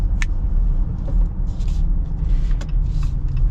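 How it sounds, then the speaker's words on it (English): Mechanical whirring and low rumble from the manual transmission of a Jeep Gladiator Rubicon while driving, with faint clicks and clunks over a steady road drone. "It's very mechanical, like you can hear some of the stuff happening with the transmission."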